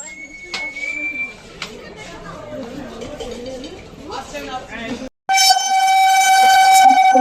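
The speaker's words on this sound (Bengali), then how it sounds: "তো বন্ধুরা আমাদের ট্রেন ঢুকে গেছে জামালপুর কাবিগুরু এক্সপ্রেস 13015" The Kaviguru Express 13015 pulls into platform 2 at a station, rumbling under crowd chatter, then a loud, sustained train horn blares over the last two seconds.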